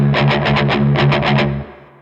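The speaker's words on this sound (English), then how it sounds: "So you get this galloping sound, which is part of the riff." Palm-muted electric guitar riff in a galloping down-down-up rhythm, roughly nine tight chugs with a steady low drone underneath, then a short ringing tail. Close and loud, no talking.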